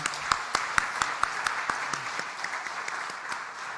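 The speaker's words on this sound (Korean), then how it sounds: "보는 믿음 가지고 하나님께 영광의 박수를 올려드립니다" A church congregation claps in worship, sharp rhythmic hand claps in a steady beat over a wash of scattered applause, the unison accents loosening into looser clapping after a few seconds.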